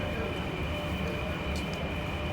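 Steady rumbling drone of a train at a station on the Trans-Siberian railway, a continuous loud hum with a brief higher squeal near the end, no talking.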